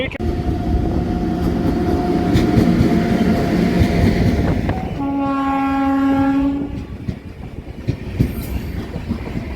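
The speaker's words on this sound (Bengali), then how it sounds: "কাঞ্চনকন্যা এক্সপ্রেস বন্ধুরা অ্যাপ্রোচিং বাগডোগরা" Kanchankanya Express approaching Bagdogra, with a steady rumble of rolling carriages and wheels, then a long sustained horn blast of several seconds, followed by clattering rail noise.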